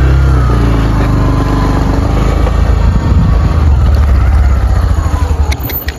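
Motorbike engine running steadily near a water tank at night, a loud, continuous low rumble with a slight surge toward the end and no talk over it.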